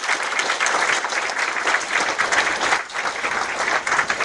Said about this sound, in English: let's do one round of applause.